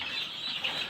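Egyptian Fayoumi parent-stock chickens cluck on a poultry farm, a hazy flock chatter that stays steady and moderately loud for a brief moment.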